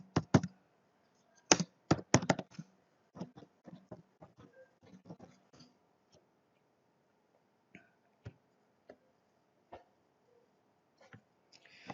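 Clattering keystrokes on a computer keyboard, close and fairly quiet, in quick bursts at first, then sparser taps with pauses between them.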